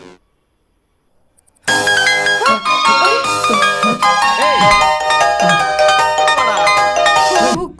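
A mobile phone rings loudly after a brief silence, playing a bright melodic ringtone that repeats for several seconds with people talking faintly over it.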